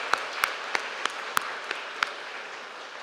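Sparse, scattered clapping from a few hands at a high school graduation ceremony, about seven sharp separate claps in the first two seconds over a steady room hum, then fading out.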